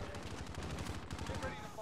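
Rapid automatic gunfire rattles continuously through a gulag fight in a video game, loud and close.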